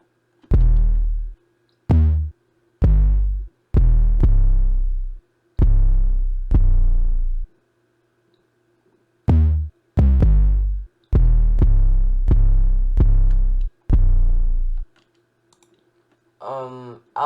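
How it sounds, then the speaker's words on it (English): Deep 808 bass hits in an ambient trap beat programmed in FL Studio, a series of booming sustained notes in short rhythmic groups separated by silence, loud and close, with a short sound burst near the end. "Then I add this 808 pattern."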